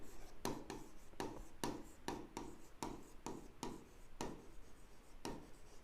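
Pen on paper writes an accountancy ledger entry in short, rhythmic strokes, about a dozen quick scratches close and fairly quiet.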